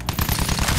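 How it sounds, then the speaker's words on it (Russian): Rapid machine gun fire from a plane in Battlefield 1 rattles in a fast, evenly spaced burst, loud and close, with no voices over it. "Проверь пулеметы! Огонь по готовности!"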